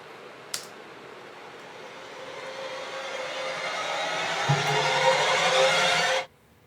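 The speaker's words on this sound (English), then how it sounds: "I literally just looked up like orchestral riser" Orchestral riser sound effect swells steadily from a soft start into a loud, dense rushing crescendo, then cuts off abruptly near the end.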